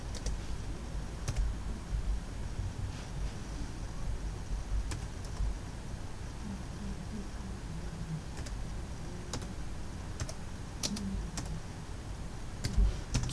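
Fingers typing on a computer keyboard at a desk with an older Windows 10 machine: scattered, faint key clicks and taps in irregular bursts over a quiet background hum, with no voices.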